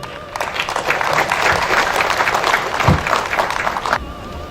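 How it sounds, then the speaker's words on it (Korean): A crowd applauds steadily for about four seconds at an outdoor football tournament ceremony, dense clapping filling the space before cutting off abruptly near the end. "큰 박수 부탁드리겠습니다."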